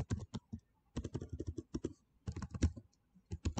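Rapid clicking keystrokes on a computer keyboard while a title is typed into a Power BI text box, coming in close bursts separated by short pauses.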